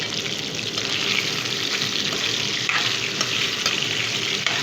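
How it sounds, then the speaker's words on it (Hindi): Chicken pieces fry in hot oil in a pan, a loud dense sizzle that holds steady throughout with faint stirring scrapes, nearby and with no voices. "तेल गरम हो चुका है, उसी में मैं चिकन डाल रही हूँ।"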